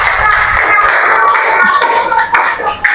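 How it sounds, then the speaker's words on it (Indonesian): Classroom applause for a student group, a steady burst of clapping from many hands in a room, fairly loud and continuous, with faint voices mixed in. "Tepuk tangan buat kelompok 1."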